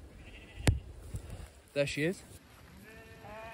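A sheep bleats twice in a farm field, short wavering calls at moderate distance, with a person speaking briefly before and outdoor noise around them.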